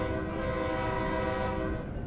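An Amtrak Acela high-speed train horn sounds in the Train Sim World 3 game, a loud sustained multi-tone blare over low rumble, holding steady for about two seconds with no clear gap between blasts.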